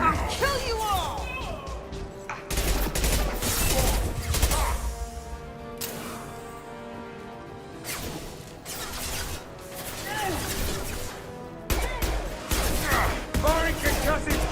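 Heavy concussive blasts and bursts of gunfire from the Mass Effect video game, several loud cracks and rumbling explosions spread through the clip, with someone talking and shouting over them.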